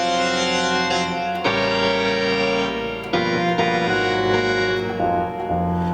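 Electric guitar plays a chord progression, sustained, lush extended chords changing every second or so, loud and continuous with no talking.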